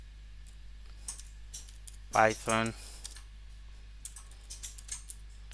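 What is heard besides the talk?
typing on a computer keyboard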